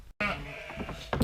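Ewes bleat in a lambing barn, a close, wavering bleat filling most of the second with other animal noise behind it and a brief louder burst at the end.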